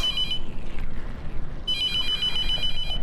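A telephone rings in the horror video game The Mortuary Assistant, with a loud electronic trilling ring that plays twice with a short gap between, over low background rumble. No one speaks.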